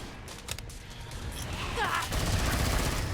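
Rapid automatic gunfire from a SWAT loadout in a Killing Floor 2 co-op match, dense bursts of shots mixed with game noise and a voice talking over it.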